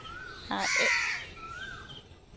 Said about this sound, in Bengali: দেখো পাখি কাক সবসময় আমরা গ্রামে থাকি যেহেতু তো সবসময় এগুলোর আওয়াজ খুব ভালো লাগে